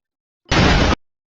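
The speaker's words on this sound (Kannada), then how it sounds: "TNT bomb ಆಗ್ಬಿಡ." A TNT bomb explosion sound effect: a single loud, short burst lasting about half a second, standing alone against silence.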